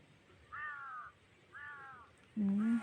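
A crow caws three times at a moderate distance, each call drawn out and harsh, the last one loudest and nearest.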